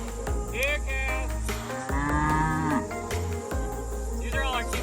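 Cattle on a family farm mooing, several drawn-out lows near and at middle distance over constant insect buzz, with a person calling out to the herd.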